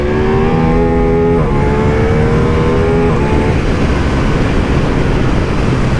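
A 2023 Ducati Diavel V4 motorcycle idles and revs through its stock exhaust, a loud close-up engine note that rises in pitch and then settles into a steady rumble.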